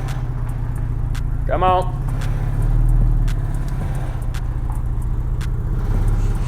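An Infiniti G35 with low, steady engine idle creeping back into its parking space, a brief mechanical chirp early on, while a person speaks briefly over it.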